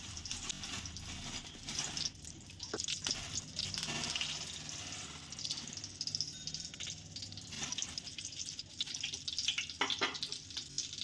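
Ghee melting in a pan for a sweet, a soft, faint continuous sizzle with light watery crackling throughout, quiet and close with no talking.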